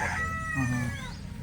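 A country rooster crows once on a chicken farm set in an orchard, a drawn-out call at moderate distance over low background noise.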